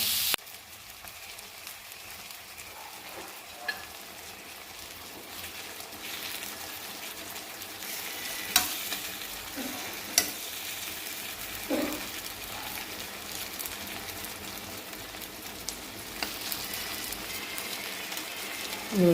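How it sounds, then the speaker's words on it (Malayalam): Madhuran fish frying in a pan in a little coconut oil and its own fat, a continuous moderate sizzle with occasional sharp clicks and scrapes as the pieces are turned, no talking. "ഇതിനെ മറിച്ചൊക്കെ ഇട്ടിട്ട് പൊരിച്ചിട്ട് കാണിക്കാവേ"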